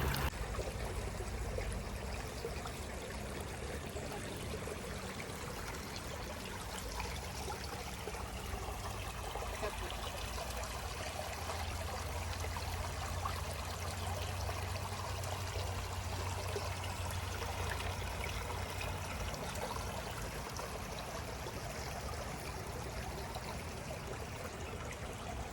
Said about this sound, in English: Some of the water is coming down.